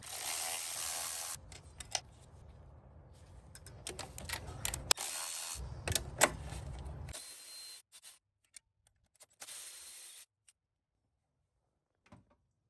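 Rapid ratcheting clicks from a hand wrench removing 12mm bolts from the throttle body of a Toyota 3.4L V6 (5VZ-FE), close and busy at first, then a few scattered metallic clicks and taps before falling quiet.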